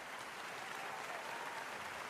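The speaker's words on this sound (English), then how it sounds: "I'll give you a round of applause" Round-of-applause sound effect: a faint, even wash of many hands clapping, steady and continuous with no voices.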